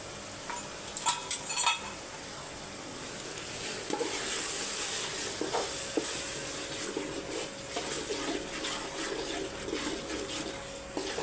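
Masala for mutton biryani sautés in a pan with a soft, continuous sizzle, punctuated by scattered spoon scrapes and clinks against the pan.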